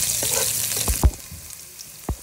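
Garlic and onion sauté in a hot pan with a close, constant sizzle, punctuated by a couple of sharp clanks from a utensil against the pan.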